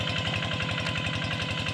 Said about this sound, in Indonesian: traktor kecil ini